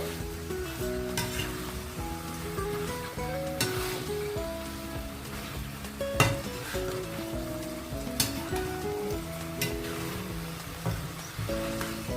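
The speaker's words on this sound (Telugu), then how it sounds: "సో ఈ పసుపు, ఉప్పు బాగా ముక్కలకు పట్టేటట్టు తిప్పుకొని లిడ్ క్లోజ్ చేసుకుందాం." Fenugreek chicken curry with turmeric and salt is stirred in a pan, giving a steady soft sizzle broken by periodic scraping and clinking strokes of the spoon.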